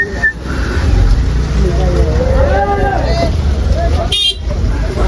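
Dense traffic on a crowded night road leading to a temple on Dussehra, a steady rumble of passing cars under a hubbub of voices, with a brief horn toot near the end.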